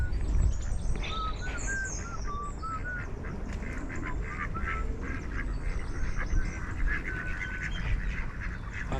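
Domestic ducks kept in the Philippines, calling around the listener with repeated quacks and chirpy cries over a busy outdoor background, fairly close and continuous.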